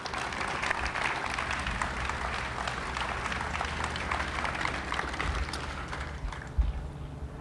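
An audience at a 9/11 remembrance ceremony outside New York City applauds a donated lobby column, with steady clapping sustained throughout and a brief louder thump near the end.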